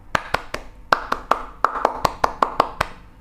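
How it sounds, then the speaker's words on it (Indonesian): Scout clap (tepuk pramuka) by one person: a run of about thirteen crisp, close hand claps with a patterned rhythm of spaced beats and quicker groups, heard alone in a quiet room. "1 kali tepuk pramuka."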